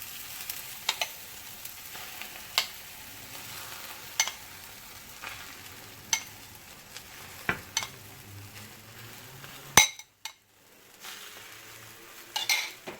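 Egg frying in oil in a pan, a steady close sizzle with scattered clinks and scrapes of a utensil against the pan and a brief quiet gap near the end.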